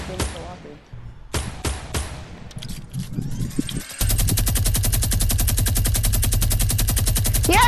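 Minigun in a video game firing a continuous rapid stream of shots in the second half, loud and steady, after scattered single gunshots and game noise while players talk excitedly.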